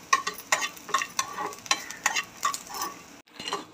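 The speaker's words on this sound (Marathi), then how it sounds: "आता त्याच्यात आपण खसखस टाकून घेऊया आणि छान प्रकारे फिरवून घेऊ" A spoon scrapes and stirs poppy seeds through roasting onion and coconut in a hot pan, with a steady rhythm of clinking strokes over a soft sizzle.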